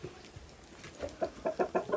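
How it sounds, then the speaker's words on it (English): Chickens clucking in a farmyard during daily chores, a quick run of soft rhythmic clucks building toward the end, fairly faint and close by with no talk over it. "Watch out, you got chickens behind you."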